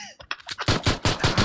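Rapid bursts of gunfire from a video game shooter, set in tunnels, crack out in a quick rhythmic string of about five loud, close shots after a few softer pops.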